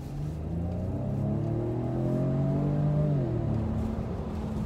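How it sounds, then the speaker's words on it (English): A 2019 Ford Edge ST AWD SUV accelerates with a soft, low exhaust rumble, its engine pitch climbing steadily and then dropping at a gear change, heard fairly quietly from inside the cabin. "It's got a small rumble at the exhaust."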